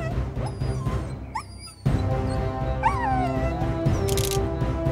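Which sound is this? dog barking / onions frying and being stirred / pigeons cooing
dog barking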